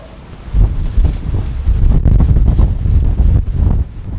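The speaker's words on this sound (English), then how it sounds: "The wind's starting to pick up." Gale-force wind gusts at sea roar across the microphone in heavy, rumbling buffets, rising and falling over a few seconds with no clear talk.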